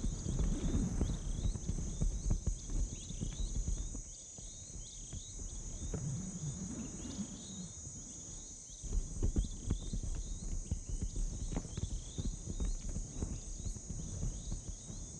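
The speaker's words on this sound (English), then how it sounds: "Just occasionally, they might go for a brief canter." Heavy black rhinos break into a brief canter, their hoofbeats thudding in a steady loping rhythm at middle distance over a constant insect and cricket drone, the footfalls easing midway and then picking up again.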